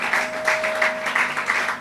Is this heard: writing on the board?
no